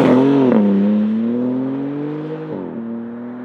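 BMW M3 Competition G80 engine accelerating hard, a loud close rising exhaust note that climbs through the revs, drops briefly at a gear change and pulls again, heard alone without talk.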